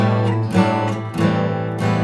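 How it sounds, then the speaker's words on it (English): Guitar chords strummed in a steady down-up rhythm, close and clear, with each stroke ringing into the next. "So we play down, up,"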